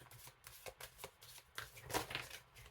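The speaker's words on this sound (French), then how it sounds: "on va tirer 2 cartes" Cartomancy cards shuffled and drawn nearby, a quick run of soft flicks and riffling strokes that builds slightly toward the end, faint overall and with no speech.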